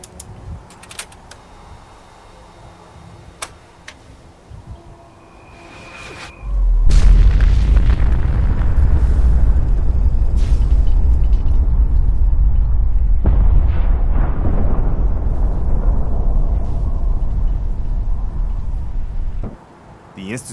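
A massive explosion destroys the Institute in Fallout 4, bursting in after a quiet stretch and roaring as a sustained, loud, low rumble that holds for about twelve seconds before cutting off.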